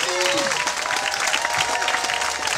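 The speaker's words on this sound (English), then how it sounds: "Everyone, let's make a round of applause for Mr. Steve!" A round of applause from the crowd at a bushcraft show for a speaker, steady clapping with some indistinct voices and a brief tonal sound mixed in near the start.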